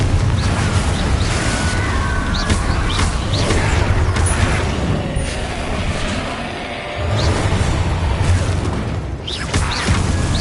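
Confringo spell explosions in the game Hogwarts Legacy, a loud continuous rumbling boom with whooshing bursts that dips briefly before surging again, no talking.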